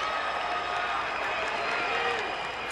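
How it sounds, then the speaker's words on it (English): A baseball crowd of Brewers fans at an away game in Arizona cheers and applauds a base hit, a dense continuous roar of voices and clapping that holds steady throughout. "those that are Brewers fans stand and cheer"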